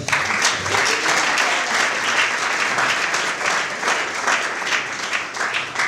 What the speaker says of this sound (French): Est-ce qu'on peut applaudir pour notre Daddy?